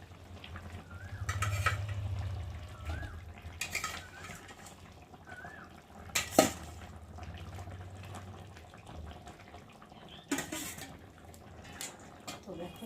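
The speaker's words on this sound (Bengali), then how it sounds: "এখন আমি এই যে মাছগুলোকে একে একে দিয়ে ফুটিয়ে নেব" Fish go into a pot of simmering curry broth with ridge gourd, a low bubbling underneath, punctuated by clinks and scraping of a utensil against the pot.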